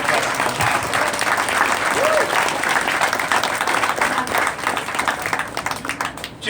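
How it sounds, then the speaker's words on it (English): An audience at the 2017 Milwaukee Film Festival awards claps in sustained, dense applause that holds steady for several seconds and then tapers slightly, with faint crowd voices mixed in. "So a round of applause to all of you here today who helped make the film festival possible"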